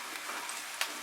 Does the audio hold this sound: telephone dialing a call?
no